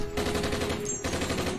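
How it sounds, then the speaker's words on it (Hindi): Gunfire as a sound effect: a rapid, even burst of shots like a machine gun, steady and fairly loud, under a low hum with no talking. "कल सरहद पे गोली चली"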